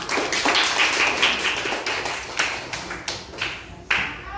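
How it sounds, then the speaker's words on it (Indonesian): A classroom group clapping together, steady mixed clapping that tapers into a few separate, sharper claps near the end. "Kita tepuk tangan dulu semua."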